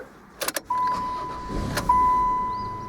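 A Dodge fitted with a repaired Denso starter is tested: a few close clicks and clunks, then a steady mechanical whine that sets in, breaks and resumes, heard alone without talk.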